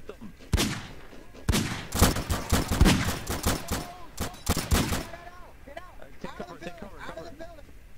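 Rapid bursts of rifle and machine-gun fire crack loudly in a Garry's Mod WWII roleplay game, dense volleys for about five seconds before tailing off, while players' voices shout over the shooting.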